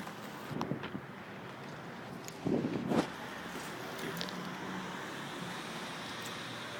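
Cars pass on a main road in steady traffic noise, with a couple of louder whooshes from nearby vehicles and some wind buffeting the microphone.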